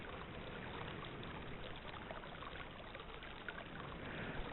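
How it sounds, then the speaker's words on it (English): Bubbles blown into a toilet bowl make a steady, soft, gurgling water wash for a Myst video game, faint and continuous with no talk. "The sound that you're hearing is them blowing bubbles into a toilet bowl"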